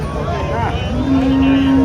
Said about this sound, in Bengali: এটা কি আপনার বাড়িতে পালন করা গরু?